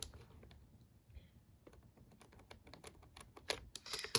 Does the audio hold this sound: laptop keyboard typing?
yes